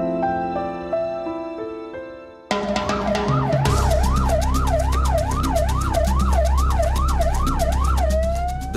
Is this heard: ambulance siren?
yes